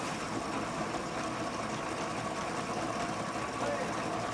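A mechanized mill called a Rola grinds mud into fine powder, giving a steady, dense mechanical drone and rattle that runs continuously and loudly, without pauses.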